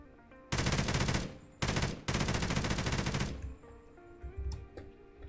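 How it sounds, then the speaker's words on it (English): Loud bursts of automatic gunfire from a modded shooter video game, two long sustained volleys separated by a short pause, followed by quieter scattered shots and game sounds. "Oh, hello. Gunfire."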